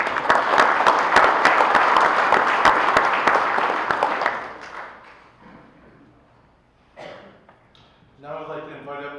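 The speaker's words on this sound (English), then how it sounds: "Round of applause" Applause fills a fire department officer installation ceremony, dense clapping from a crowd that fades away after about four seconds, followed by a quieter room and a voice speaking.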